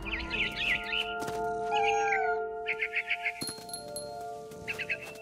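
A cat meows repeatedly in the video game What Remains of Edith Finch, a series of close, clear meows over a soft hum, with birdlike chirps and light clinks between them.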